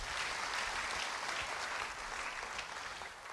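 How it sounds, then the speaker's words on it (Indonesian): A church congregation claps for someone during a sermon. The dense, steady applause is fairly loud, then thins a little toward the end, with no voice over it. "Siapa yang mau beri tepuk tangan bagi dia?"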